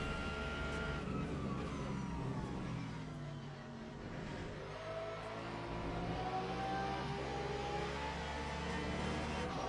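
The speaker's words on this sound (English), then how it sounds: "You can hear the exhaust sound of the" Mustang GT3 race car exhaust in the video game Le Mans Ultimate at Imola is a low, rumbling drone mixed with other engine whines. It stays fairly faint and steady throughout, with a brief dip in the middle.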